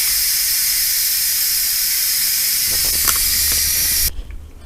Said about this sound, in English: Let's let the pressure escape.